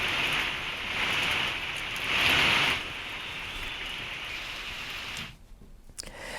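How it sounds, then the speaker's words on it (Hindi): Steady heavy rain falls over the Uttarakhand hills, a dense continuous hiss with a louder swell midway, then a sudden drop to quieter rainfall near the end. "भले ही उत्तराखंड के पहाड़ी इलाकों में बारिश हो रही हो"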